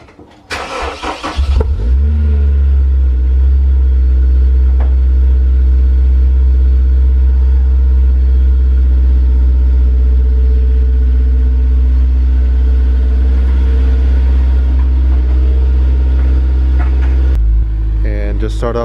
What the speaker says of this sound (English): And just start up the S2000.